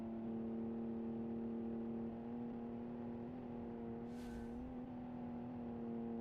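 A boxer six engine in a muscle car drones steadily in the BeamNG driving game, with a low sustained hum at constant pitch and a brief hiss partway through, at a quiet level.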